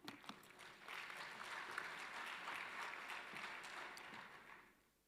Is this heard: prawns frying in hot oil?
no